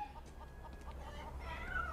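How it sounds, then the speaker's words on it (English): Soft chicken clucking in short repeated bursts over a steady low background rumble, moderately distant. "I hear chickens"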